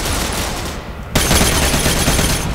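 Gunfire crackles in the Ghost Recon video game as dense, rapid volleys of shots. The fire eases briefly, then bursts back louder and sustained.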